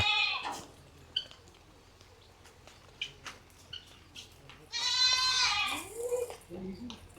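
Goats bleat close by, with one loud cry at the start and a longer, stronger wavering bleat midway, separated by quieter intervals of scattered small noises.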